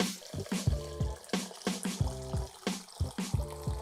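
Water runs from a kitchen pot-filler faucet into a cooking pot holding dried kelp for Korean hot pot, splashing and gurgling in a steady rhythm of close bursts with no one speaking.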